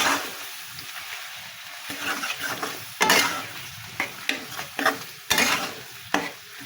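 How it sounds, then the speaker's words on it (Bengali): Mutton sizzling and frying in a pan while being stirred, with repeated scraping and clanking strokes of the spoon over a steady crackle and no talking. "ভালো করে নাড়াচাড়া দিয়ে নিলাম।"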